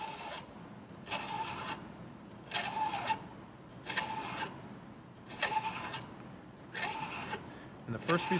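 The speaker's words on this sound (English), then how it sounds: "So to do the curved edges, I'm going to use a half round file." A half round file rasps along a curved edge with about seven firm, evenly spaced strokes, each a bright scraping burst separated by short pauses, close and clear.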